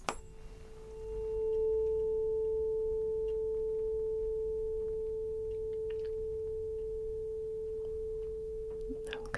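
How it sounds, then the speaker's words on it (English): A steady pure test tone from a hearing check rises in and holds continuously at an even, fairly quiet level, with faint handling noises around it and no talking. "now I want you to tell me when you can't hear the tone anymore"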